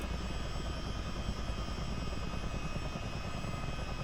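Twin turbine engines of a CH-47 Chinook helicopter in a flight simulator, running up to flight mode as a steady, dense, loud droning roar with a constant whine, close and unbroken, no voices.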